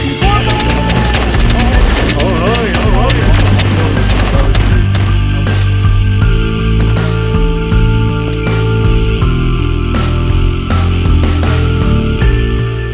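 Dense rapid video game gunfire in a sprawling multiplayer survival game, loud continuous bursts of shots with metallic clinks, sustained throughout with voices.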